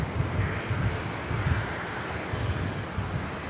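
Dash 8 turboprop at Brisbane airport, a continuous engine drone with pulsing low-frequency propeller throb, moderately loud and unbroken.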